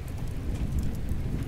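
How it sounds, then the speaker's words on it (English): A radio drama storm effect of steady heavy rain with deep rumbling thunder throughout, dense and continuous, with no voices. "What a storm!"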